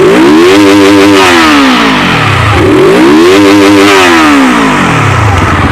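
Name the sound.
motorcycle engine revving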